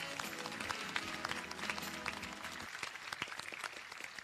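Audience applause at a Seychelles Business Studies Academy graduation ceremony, a steady patter of many hands clapping at moderate level, fading toward the end with a few scattered claps.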